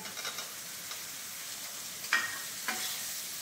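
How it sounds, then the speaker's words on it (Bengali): Spices are sautéed with a splash of water in a pan on a home kitchen stove, giving a faint steady sizzle broken by a couple of short scraping stirs. "এবার অল্প একটু জল দিয়ে কষিয়ে দিই"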